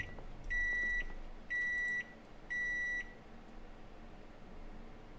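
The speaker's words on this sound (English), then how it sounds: "We can put this in the microwave here." A microwave oven in the video game Project Zomboid gives three steady, clear electronic beeps, each about half a second long, over a low background hum with no talking.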